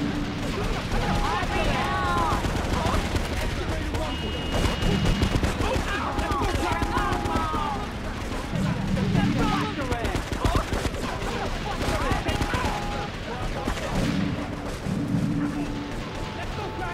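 Uzi fire in GTA 3 rattles out as sustained rapid bursts of automatic gunfire in a continuous loud city firefight, mixed with other game noise and background voices.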